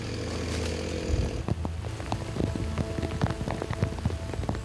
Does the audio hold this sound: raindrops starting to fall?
yes